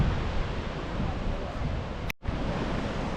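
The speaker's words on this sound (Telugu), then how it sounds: "ఈ జోగిని వాటర్ ఫాల్స్" Jogini waterfall near Manali roars as a dense, continuous rush of falling water, loud and close, with a brief dropout near the end.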